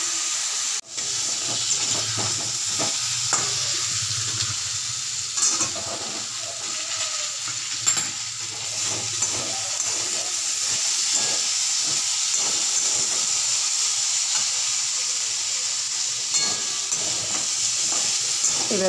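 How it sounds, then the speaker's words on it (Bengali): Beans and eggplant frying with turmeric for a Bengali-style spinach dish, a steady close hiss of sizzling oil with scattered stirring scrapes throughout, no talking. "হলুদটাকে ভালো করে মিশিয়ে দিলাম"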